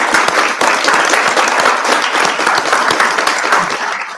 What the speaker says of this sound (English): Can we have a big round of applause for Charlie?